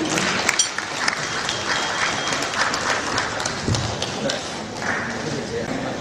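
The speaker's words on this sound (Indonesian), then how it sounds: "Kita berikan aplaus kepada ketiga pembicara ini" Applause for three speakers at a dialogue event between Unilever producers and plastic recycling businesses, a dense steady roar of many hands clapping from a sizeable audience, filling the room for several seconds with some voices mixed in.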